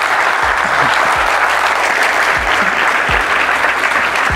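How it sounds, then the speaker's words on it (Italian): An audience gives a sustained burst of dense, loud applause at the close of an Italian interview event, steady clapping filling the whole moment without pause. "Chiedi gli applausi."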